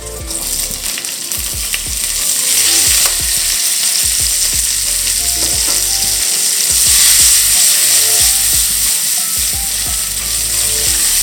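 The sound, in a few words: bacon and peas frying in a pan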